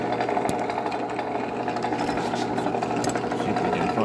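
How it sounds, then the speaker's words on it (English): A small drill with a 1/8 bit bores a hole in an Athearn SDP40 model locomotive, giving a continuous buzzing whir close by with brief rattles, and no speech. "And we'll just drill that a little bit."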